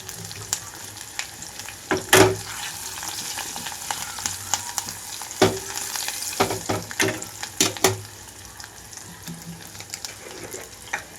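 Garlic and tempering spices crackle and sizzle steadily in hot oil, with asafoetida added, broken by a few sharp clinks and scrapes of a spoon stirring the pan.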